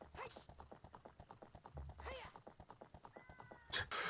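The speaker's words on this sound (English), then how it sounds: "I think there's 3 people right now on horses." Three riders gallop on horseback in Ocarina of Time Randomizer, a rapid steady drum of hooves throughout, with a whinny near the middle and a bright chime near the end; faint voices sit underneath.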